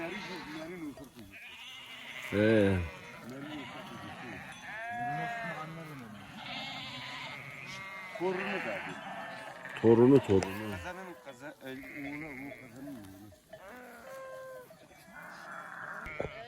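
Romanov sheep and lambs bleat several times in short, wavering cries at close range, interspersed with people talking over a quiet farm background.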